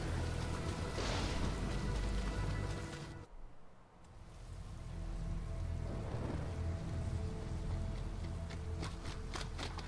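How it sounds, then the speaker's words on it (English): Steady rain falls throughout a scene in the video game Metal Gear Rising, a dense hiss with a brief dip near the middle before the downpour swells back, with some sharper splashy accents late on. "The rain, bro, it makes this scene look so much cooler."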